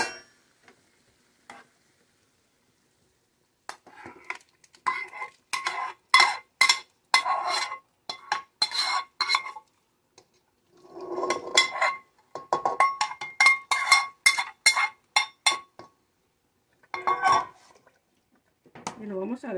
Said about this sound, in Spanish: Ahora le voy a poner la salsa de tomate encima. Lo voy a revolver bien.